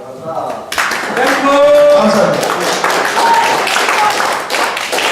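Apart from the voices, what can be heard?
audience applause at lecture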